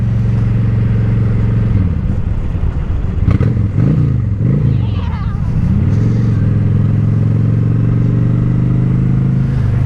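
A Honda Shadow motorcycle engine idles with a steady low throb, then revs up in several quick rising and falling bursts before settling back to idle, loud and close.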